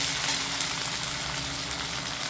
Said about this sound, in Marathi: तर आता मी छान तुपामध्येच भाजून देते